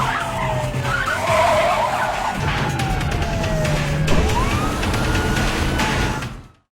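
A police car chase: loud tyres skidding and screeching while a siren wails and sweeps in pitch, with engine roar throughout, cutting off abruptly at the end.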